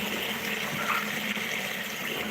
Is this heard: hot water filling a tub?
yes